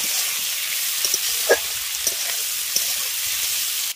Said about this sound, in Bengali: টমেটোটা দিয়ে ভালো করে আলুর সঙ্গে মিশিয়ে একটু টমেটোটাকেও ভেজে নেব